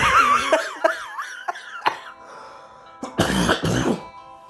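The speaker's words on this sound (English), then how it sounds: "that was an awful cough" A person coughs and clears their throat repeatedly in harsh, uneven bursts, with a couple of louder rasping coughs near the end and brief gasping breaths between them.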